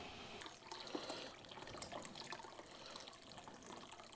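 Water being poured into a jar of frankincense-infused oil, a steady close liquid trickle with small splashy drips over a few seconds, no talking.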